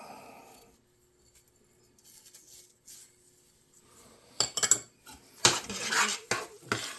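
Mashed potatoes being mixed with melted butter, white pepper and salt for Irish colcannon: a quiet start, then loud bursts of a metal spoon scraping and clinking against a pot, close up, with no talking.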